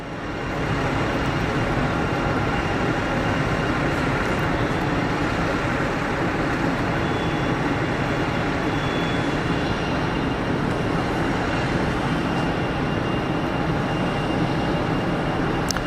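A departing aircraft takes off at Geneva Airport, a loud, steady broadband roar that holds for the whole stretch without a break and with no talking.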